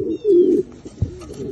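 A captured pigeon with a leg ring coos up close in a few soft, throaty bursts, with a pause between, and no talking.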